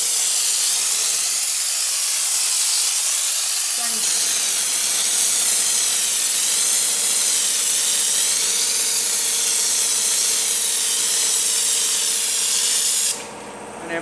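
An air spray gun applies a second coat of Raptor coating on a vehicle's wheel arch and rear bumper, a loud continuous close-up hiss that runs steadily before stopping abruptly at the end.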